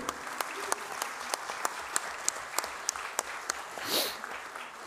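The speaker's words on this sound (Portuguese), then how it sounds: "Uma salva de palmas aí para essa família linda." Sparse, slow clapping from a small audience at a formal ceremonial session honoring a family, with individual claps distinct and evenly spaced, fairly close and moderate in level, and a brief louder swell near the end.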